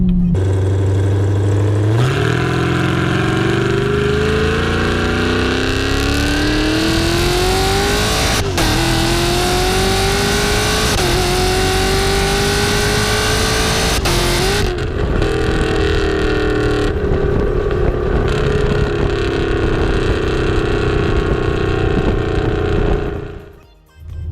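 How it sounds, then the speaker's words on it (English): A loud forged LT1 V8 with fueling upgrades in a 2016-2024 Camaro SS pulls hard through the gears, its exhaust roaring and rising in pitch with brief shift breaks before easing off at the end. "maybe I'll put an exhaust clip here"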